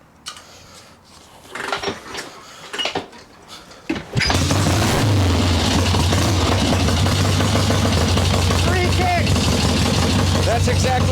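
Swap meet chopper motorcycle engine cold-starting on choke after several kicks, then settling into a loud, steady, rumbling idle; shuffling and handling noises come before it fires.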